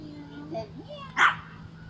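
A dog on a neighborhood walk gives one sharp, loud bark at a neighbor, close by, while people speak softly around it.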